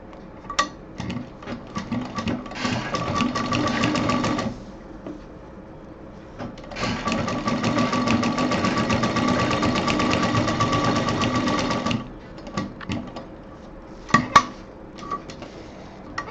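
Sewing machine stitching along a zip in two long, steady runs of rapid mechanical whirring, with short pauses and fabric handling clicks between them.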